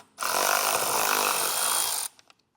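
A powered socket tool removing an 8mm bolt from the air duct on a 2023 Jeep during a snorkel install gives a loud, steady whirring run of about two seconds, then a few light clicks and taps.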